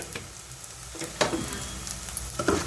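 Onions, green chilies and curry leaves frying in oil in a pan for egg masala curry, a steady close sizzle with a few sharper crackles and stirring taps.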